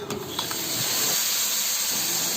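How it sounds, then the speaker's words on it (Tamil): Oats dosa batter spread on a hot pan gives a steady, close hissing sizzle that continues without a break, with faint scraping touches near the start. "இப்போ இது நல்லா கலக்கிட்டு நம்ம தோசை சுட ஆரம்பிக்க வேண்டியது தான்"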